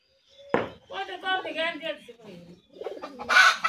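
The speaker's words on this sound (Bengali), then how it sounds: "কবুতর ওই জায়গায়" Soft, low coos of native pigeons in a coop shared with native chickens come through in short bursts, mixed with nearby voices talking and a sharp knock near the start.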